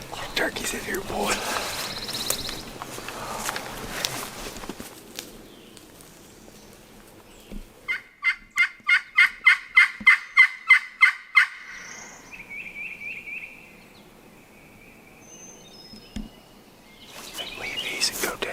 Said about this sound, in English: Turkeys in here, boy.